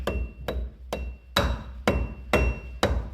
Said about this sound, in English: from here I can just hammer it in until it's flush